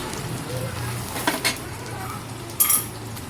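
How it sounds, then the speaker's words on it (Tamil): Chopped onions sautéing in a pan for a Tirunelveli-style country chicken curry: a low, steady sizzle runs throughout, broken by a few sharp spatula clinks and scrapes against the pan. "நல்ல வெங்காயம் நல்லா வதங்கட்டும். நல்ல பொன்னிறமாக வர வரைக்கும் நல்லா வதக்கிக்கலாம்."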